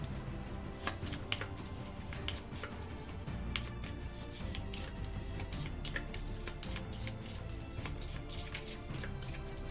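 Playing cards for the Marvel Legendary deck-building game are shuffled close up, a continuous run of soft riffling slaps and flicks repeating for several seconds, quiet and without talk.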